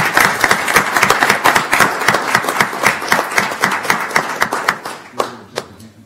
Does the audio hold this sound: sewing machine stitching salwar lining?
no